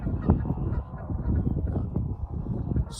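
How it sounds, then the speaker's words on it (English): Canada geese at Round Lake Preserve, honking and cackling in a dense, overlapping flock chorus, moderately distant and continuous, with no talking. "And you could hear the Canadian geese in the background cackling behind us."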